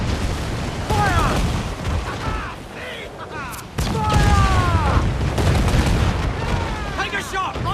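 Cannon fire in Assassin's Creed Black Flag during a ship battle: deep booming blasts roll over a constant battle din, with shouting voices on top throughout.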